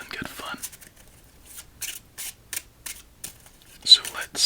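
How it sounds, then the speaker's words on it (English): A Bicycle ECO deck of playing cards is shuffled close up in bursts of crisp riffling and soft flicks, with brief quiet gaps and faint whispering. "So let's give this deck one more shuffle"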